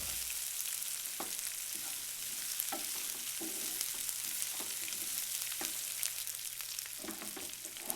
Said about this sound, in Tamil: இடித்த மிளகை போட்டுக்கோங்க. நல்லா கிளறி விட்டுக்கோங்க.